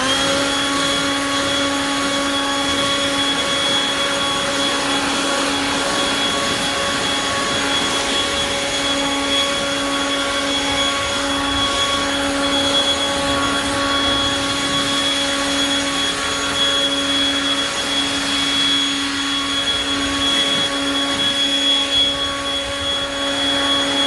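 Milwaukee M18 Fuel dual-battery leaf blower, rated 600 CFM and 145 MPH, running steadily throughout with a loud, constant motor whine and rushing air roar, no talking over it.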